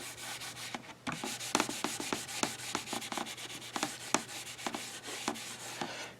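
A wooden tray of copper beech is waxed and buffed by hand, making close, brisk rubbing strokes in an uneven rhythm, alone with no talk.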